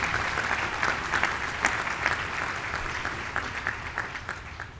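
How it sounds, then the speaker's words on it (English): An audience at a medical school white coat ceremony applauds with sustained, even clapping, many hands blending into a steady wash of moderate loudness that tapers slightly near the end. "Join me in giving them an applause."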